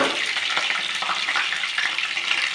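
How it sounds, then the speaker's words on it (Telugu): A spoonful of mustard seeds spluttering in hot oil for fish curry, a steady dense crackle and hiss close by, continuous with no talking. "అది చిప్పట్లాడిన తర్వాత బాగా చిప్పట్లాడుతుంది"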